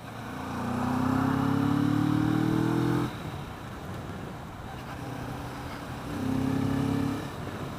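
A 2015 Kawasaki Vulcan S motorcycle engine drones steadily while riding, then drops off abruptly as a gear change is attempted, idling lower before the revs climb again near the end.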